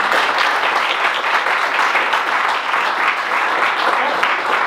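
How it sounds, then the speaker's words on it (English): A loud, dense round of applause from an audience at a talk event, sustained clapping that stays at full strength throughout. "Big round of applause again to both."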